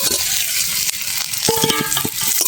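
Potatoes frying and being stirred in a spiced masala, a steady loud sizzle throughout with clinks and scrapes of a spoon against the pan.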